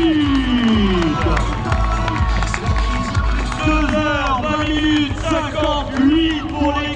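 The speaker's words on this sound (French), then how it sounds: "Vous pouvez regarder les applaudissements" A crowd at the finish line of the Saint-Étienne Ekiden relay race keeps up continuous cheering and applause, with whoops and a loud announcer's voice talking over the noise throughout.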